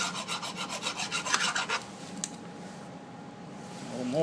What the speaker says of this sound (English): Just deburr that a little bit.